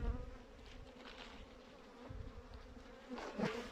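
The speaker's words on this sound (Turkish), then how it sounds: "Şu anda her tarafımda arılar uçuşuyor." Honeybees buzz in a continuous drone around the listener at a hive during winter feeding, moderately loud, with a few louder passes and bumps near the end.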